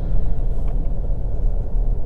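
A 2021 Ford Ranger Raptor 2.0 Bi-Turbo 4WD pickup cruising at speed, a continuous loud low rumble of engine and road noise heard from inside, steady and unbroken, with no voices.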